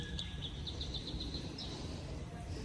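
A bird gives a rapid series of high chirps over a low rumbling background, briefly audible then fading.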